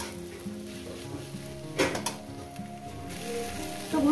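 Water spinach and prawns sizzle and fry in a pan, a steady close crackle with brief louder bursts as the greens are stirred and a utensil scrapes the pan, with no talk.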